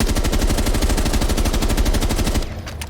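Rapid automatic gunfire sprays in a tight, even rhythm in Rainbow Six Siege, loud and continuous for over two seconds before cutting off abruptly.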